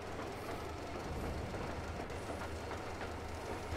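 Train rolling on rails in the video game Metro Exodus, a steady low rumble with faint rhythmic clatter, continuous and fairly loud throughout with no speech.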